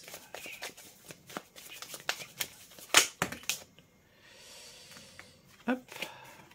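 Tarot cards are shuffled and drawn, giving a run of quick, crisp riffling flicks and a few sharper snaps, close and fairly quiet, under a voice that speaks between the card sounds.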